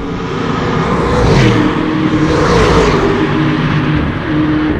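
A 2019 Lamborghini Urus engine accelerating hard in Corsa mode on a track, loud and close, its roar rising and falling with aggressive gear shifts and no talking.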